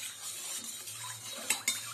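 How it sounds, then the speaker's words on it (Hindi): Salt is stirred into room-temperature water for dahi vada, a soft swishing of water in a bowl with two sharp clinks of a spoon against the side near the end. "इसमें हम 1/2 चम्मच नमक को डाल देंगे और इसको हम अच्छे से मिला"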